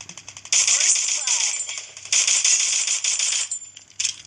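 Rapid automatic gunfire in a video game shooter, loud dense bursts of shots with short pauses between them, close and sharp with a metallic rattle.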